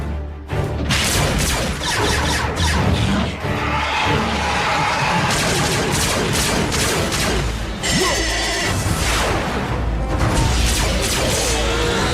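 Rapid, loud gunfire and blasts fill a battle scene in the Transformers Prime Beast Hunters video game, with dense, continuous shots, crashes and metallic impacts throughout.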